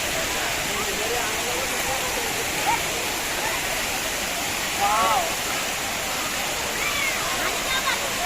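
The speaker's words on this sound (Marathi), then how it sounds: "इथं ना मोठा धबधबा आहे हा." A large waterfall roars as a loud, constant broadband rush close by, with faint voices and a few brief high calls rising briefly over the steady noise.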